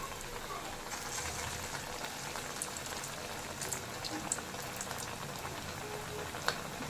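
Potato nippattu frying in hot oil make a steady close bubbling sizzle with faint crackles and pops throughout, no voices.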